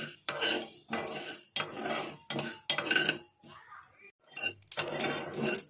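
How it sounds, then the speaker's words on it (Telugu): Mustard and cumin seeds sputter and crackle in a hot pan, close by, in a series of sharp sizzling bursts with short pauses between them. "మంచిగా చిటపటమంటున్నాయి చూడండి."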